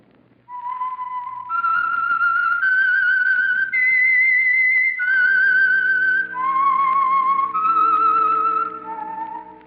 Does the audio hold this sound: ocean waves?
no